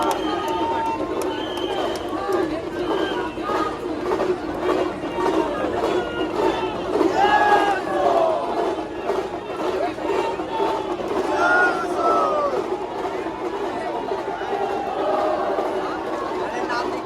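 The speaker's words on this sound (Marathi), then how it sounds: "बघा मलबार हिल वाल्यांचा जल्लोष बघा किती जोरात चालू आहे." A lively crowd at a Mumbai Ganpati arrival procession in Malabar Hill, with a damru drum, cheers and shouts steadily and loudly for the whole stretch, raised voices and chatter blending into a dense festive roar.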